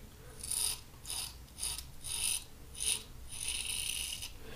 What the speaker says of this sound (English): First pass with the grain, with the Gem Junior.